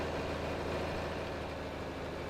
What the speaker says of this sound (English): this is kind of a loud tractor, and then you go in first person and it's really loud.